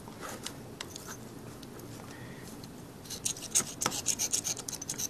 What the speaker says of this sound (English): There, scrape that a little bit. Maybe we get a better connection.